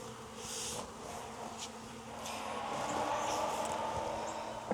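A dense, steady buzz of honey bees swarms around an open hive while a virgin queen is being installed, close and continuous with no voices.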